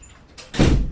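A door in a juvenile hall building swings open into an electrical room: a faint click first, then a louder, rushing, broad sweep as it moves, close by with no voices.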